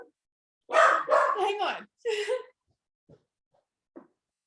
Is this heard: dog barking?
yes